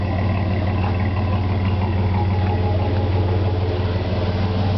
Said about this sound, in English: that's a 40 series Flowmaster. It definitely produces a very nice sound at an idle.